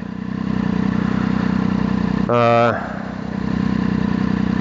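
A 675cc motorcycle engine running at a steady hum beneath rushing wind, close to the rider. A short, bright tonal sound cuts in briefly midway.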